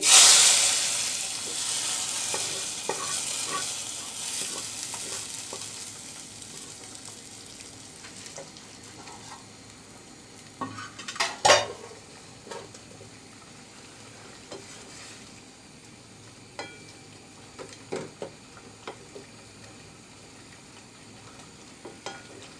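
Garlic, onion and pumpkin greens frying in a pan, beginning with a loud burst of sizzle that settles into a steady hiss, with scattered stirring scrapes and knocks throughout, close by and without speech.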